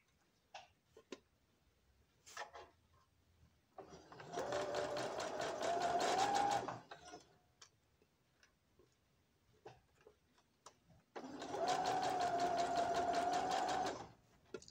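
A sewing machine stitching fabric for baby booties runs in two steady bursts of several seconds each, close and clear, separated by quiet pauses with faint handling clicks and no talking.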